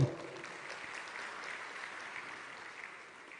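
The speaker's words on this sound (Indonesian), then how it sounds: "tepuk tangan buat beliau" A large crowd at a mass loan-signing event applauds an honored minister, a soft, distant wash of many hands clapping that holds steady and fades slightly toward the end.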